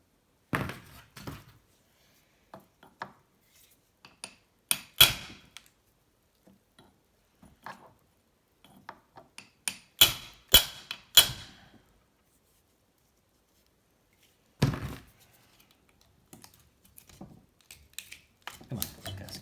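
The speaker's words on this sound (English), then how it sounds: "Let's do some hammering." Hammering on parts of a 1984 Honda C70 engine sounds as scattered sharp metallic knocks and thunks, some single and some in quick clusters, separated by quiet pauses over about twenty seconds.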